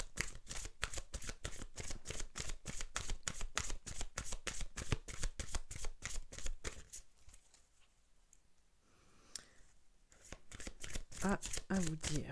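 Oracle cards being shuffled for a reading, a long run of rapid, crisp riffling flicks up close, pausing briefly near the end before resuming, with no voice over it.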